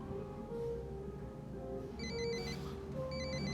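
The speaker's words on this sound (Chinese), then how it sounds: "老师，听个电话。" A telephone rings in two short electronic bursts, faint and clear above a low, steady indoor background.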